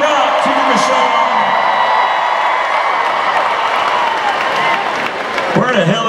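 Arena concert crowd applauding and cheering for the DJ at a concert, a loud continuous roar of clapping and whoops with talk underneath.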